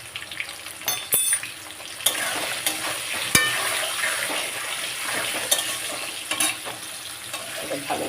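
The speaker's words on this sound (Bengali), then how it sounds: "এটা ভালো করে ভেজে নেবো আলুটা।" Potatoes fry with salt and turmeric in a pan, making a constant bright sizzle with scattered clinks of a spoon or ladle against the pan as they are stirred, close by, with no talk.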